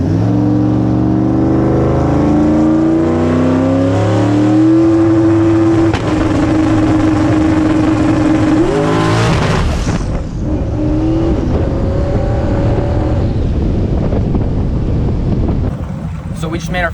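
Drag race car on a test hit down the strip, a loud continuous engine note climbing through rising harmonics and a gear change, then a cutoff and lower roar with heavy wind buffeting; voices sound under it.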